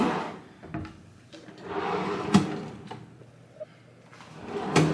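Wooden drawers in a deluxe two-queen hotel room at the Aria Resort & Casino, pulled open and pushed shut several times, with sliding rubs and sharp wooden knocks as each one closes, heard up close without talking.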